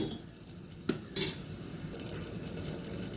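Pieces of drumstick, carrot, beans and green peas fry for Chennai-style sambar, a soft, steady sizzle under two sharp clanks of a utensil against the pan.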